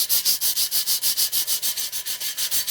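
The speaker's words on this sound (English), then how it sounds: "you just want to use the sandpaper and just go in vertical lines across the entire thing" Sandpaper scrubs a BuildTak 3D printer bed surface in quick, even back-and-forth strokes, a close, rhythmic raspy swish repeating about six times a second with no voices.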